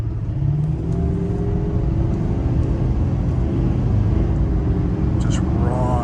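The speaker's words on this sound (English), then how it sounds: "I'm not even going to push the pedal all the way down. I want you to see how quickly this can get up to speed." A big 445 horsepower truck accelerating hard, its engine a loud, close, steady rumbling roar with rising harmonics, with someone talking briefly over it.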